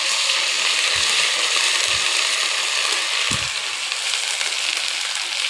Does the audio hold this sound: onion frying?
yes